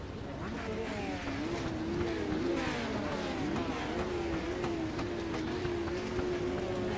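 Legends race cars, a field of 20, lapping Concord Speedway in a night race, give off a continuous loud engine drone that holds steady throughout with a slight waver in pitch.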